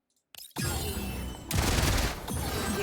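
Basic-attack gunfire in the Girls' Frontline 2 video game: after a brief click, a dense, loud, continuous rattling burst of rapid shots runs unbroken, swelling louder midway, with no talking.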